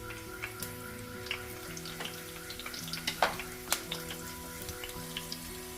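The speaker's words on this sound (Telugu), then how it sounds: "కొంచెం ఆయిల్ హీట్ అయ్యాక ఫస్ట్ మిర్చి వేసుకోండి ఇందులో." Green chillies frying in hot oil for a Telugu fish pulusu, with a quiet, steady sizzle broken by scattered soft pops and crackles, near and alone.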